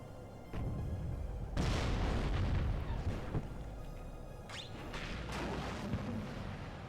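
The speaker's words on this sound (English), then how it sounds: "Missile away for the T80 BV. Gets a hit, I think." In the WARNO strategy game, missiles launch and strike T-80 tanks, heard as several muffled booms and bursts over a low rumble, spaced irregularly and fairly distant.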